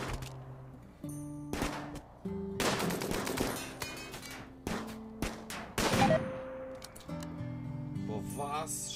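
Gunfire in the RimWorld video game, with several sharp shots and short bursts scattered among game tones and musical beeps, while a person talks over much of it.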